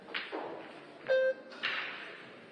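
Billiard balls colliding in a cannon shot at a pro billiards tournament in Saint Louis: a few sharp, close clicks and knocks of balls over low arena ambience, no talking.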